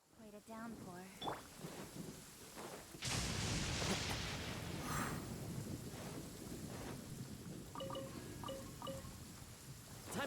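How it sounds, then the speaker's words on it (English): Heavy rain in the video game Genshin Impact, a dense, loud hiss of downpour that rushes in after a few seconds of quieter game sounds and holds steady, with chiming game effects and a voice near the start. "Quite a downpour."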